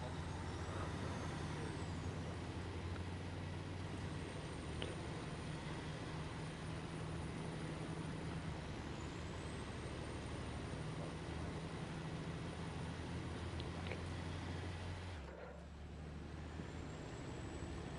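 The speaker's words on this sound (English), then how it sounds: "Yeah, the Plaid's a good truck, especially for this region." A heavy truck in the video game SnowRunner rumbles at a steady low drone, broken near the end by a sharp hiss of air brakes, with no voices present.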